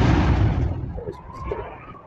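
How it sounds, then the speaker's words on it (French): A simulated explosion scene's generated effect: a loud, broad low-frequency blast at the start that decays over a couple of seconds, with faint sharp pops and debris-like crackles trailing behind. "on a une simulation d'une scène avec une explosion"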